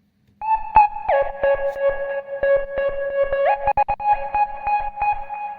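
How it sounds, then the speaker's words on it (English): A bright synth lead plays a melodic line of short notes, each swooping slightly in pitch at its attack, with echo trailing behind. "Take a listen to the notes of this lead sound and pay close attention to the little pitch bends"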